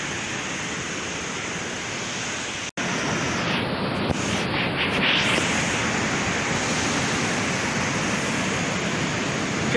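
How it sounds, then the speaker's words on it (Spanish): A steady, loud rush of falling water from the Flor del Agua waterfall fills the whole stretch, broadband and constant, with one brief dropout near the start. "Qué hermosa catarata, agua de flor."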